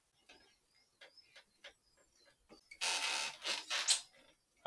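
Axle bolt being undone and pulled from the rear wheel of a Nicolai Saturn 16 MG bike on a work stand: a run of faint scattered clicks and metallic ticks, then a louder, longer rasping scrape near the end.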